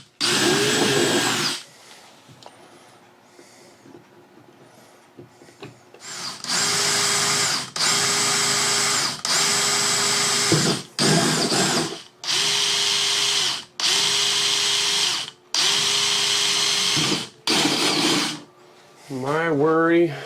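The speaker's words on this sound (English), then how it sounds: "So I'm going to drill this out. 5/16 is what it's calling for." A power drill bores a 5/16 inch hole through thick plastic shower base, heard as a close, loud series of repeated bursts, each a few seconds long with short pauses between, and the motor winding down at the end.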